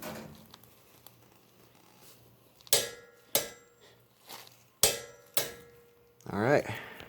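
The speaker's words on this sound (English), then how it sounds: "So now we're going to torque this front nut, but this time we're going to be using a 19mm." A wrench working the 19mm front nut on a mini bike, several sharp metallic clanks spaced a second or so apart, close and loud against a quiet shop, ending in a brief rattling burst.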